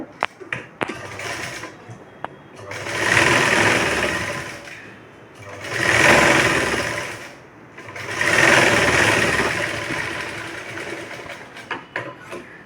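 A sewing machine stitches a katori blouse in three loud, close runs of rapid whirring, separated by short pauses with small clicks and handling noises.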